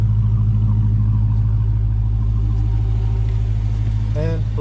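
Dodge Hellcat with its active exhaust valves deleted, idling with a steady deep, loud rumble throughout and a brief rise near the end.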